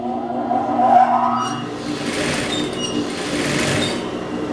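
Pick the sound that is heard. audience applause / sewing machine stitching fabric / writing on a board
sewing machine stitching fabric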